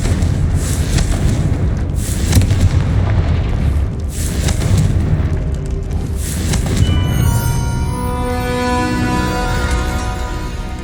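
The Confringo blasting spell in Hogwarts Legacy sets off a string of heavy booming explosions in quick succession, loud and close, followed by a ringing, shimmering tail as they die away.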